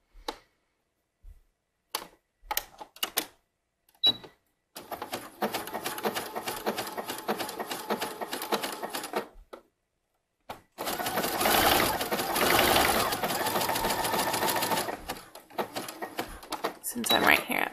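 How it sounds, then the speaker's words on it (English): A sewing machine stitching a ruffle for a swim top starts and stops with a few clicks, then runs in two long steady stitching bursts, loud and close. "I'm going to do it on my sewing machine."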